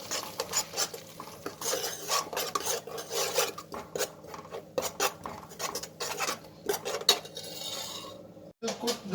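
Green chilli paste is stirred in a pan for halwa, with a spoon scraping and rasping against the metal in a quick, repeated rhythm, close and loud, with no talking.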